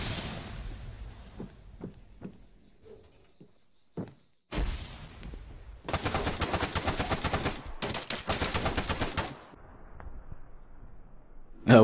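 Rapid automatic gunfire in Arma 3 King of the Hill, with scattered single shots and thuds early on, then two long, loud sustained bursts of fire, followed by quieter ambient battle noise.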